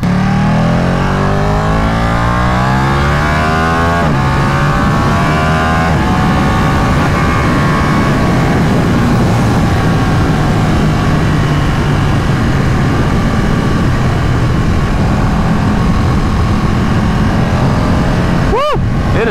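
A 2019 Ducati 959 Panigale Corse sport motorcycle ridden fast in sport mode, its engine note rising through gears with steady loud roar and wind rush, a sharp brief whine near the end; rider's voice faint underneath.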